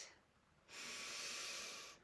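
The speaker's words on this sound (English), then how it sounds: "Breathing it in," A slow inhaled breath during a breathing exercise, a soft airy hiss drawn in steadily for over a second, close and quiet.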